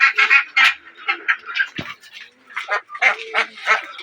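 A group of farm ducks quacking close by, a rapid series of nasal quacks in short irregular bursts, loud and overlapping, with brief pauses between calls.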